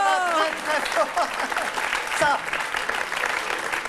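An audience on a French television telepathy show applauds for a contestant named Sarah. The clapping is dense and sustained, and a host's voice talks over it the whole time.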